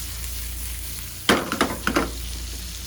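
Shrimp dropped into a hot frying pan hit with a sharp burst of sizzling, followed by a few quick crackling spurts as they settle, all close and clear with no talking.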